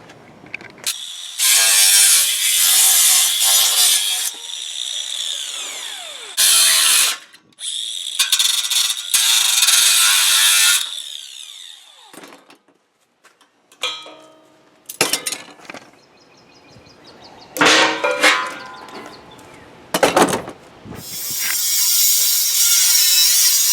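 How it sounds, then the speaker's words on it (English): A power cutting tool trims the upper windshield inner roof panel of a 1963 Chevy C10, with loud high-pitched bursts of cutting separated by pauses and ratchety mechanical clicks, close up and with no talk. "Go ahead and scribe it and cut it."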